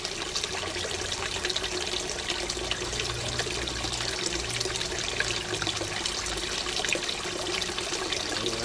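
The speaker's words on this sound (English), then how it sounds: "I don't know whether you heard that gurgle, but that's the end of the siphon now." Water gurgles and trickles steadily at the end of an aquaponics siphon in a small basic system, a continuous close wash of draining liquid with no talking.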